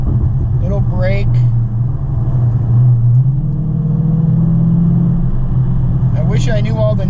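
A 2020 Dodge Challenger Scat Pack Widebody engine throbs with a loud, deep rumble as the throttle is eased back on through a curve, a sustained close drone heard from inside the car with talk over it.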